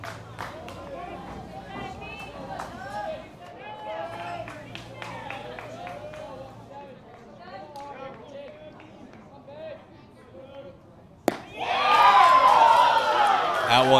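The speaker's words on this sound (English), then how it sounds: "A cheer came up from the Rapid City faithful." A home crowd at an American Legion baseball game between Rapid City Post 22 and Harrisburg Post 45 sends up a sudden loud cheer, after a stretch of a commentator talking over faint distant crowd murmur.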